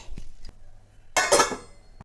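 A lid is set onto a cooking pot while paneer biryani is prepared, giving a bright metallic clatter and clink after a few soft knocks, close and alone.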